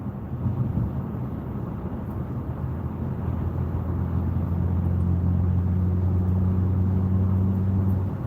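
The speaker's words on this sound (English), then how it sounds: "I guess this traffic could be worse for Saturday at 5 o'clock" Saturday evening car traffic heard from inside a vehicle, a steady low rumble of road and engine noise with wind, constant and fairly loud, no voices.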